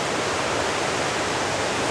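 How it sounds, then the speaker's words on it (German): The Stony Creek waterfall, running unusually high, gives off a continuous, loud roar of rushing water with no break. "Das ist der Wasserfall. Man hört ihn kilometerweit."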